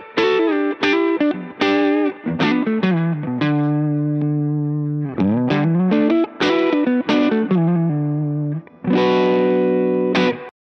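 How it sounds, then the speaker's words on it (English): A PRS semi-hollow electric guitar plays a clean tone through a Two-Rock Custom Reverb amp. It runs as a loud, ringing sequence of plucked chords and single notes with sustained harmonics, heard alone with no voices over it. "the clean tone sounds a little something like this"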